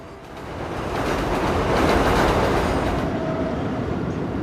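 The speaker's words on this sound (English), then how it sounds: "We have Amtrak right here." An Amtrak train passes close by in Astoria, Queens, a loud rushing roar that swells to a peak midway and stays heavy to the end.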